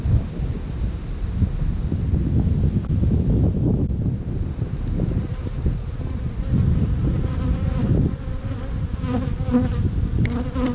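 Honeybees buzz steadily and densely throughout a hive inspection, a close, continuous drone of many insects with a faint high whine above it and no talk.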